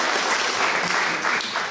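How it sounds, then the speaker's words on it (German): Brief, dense burst of audience applause at a New Year's reception in Leverkusen, steady and fairly close throughout. "mit diesem Applaus sind Sie auch schon gewählt"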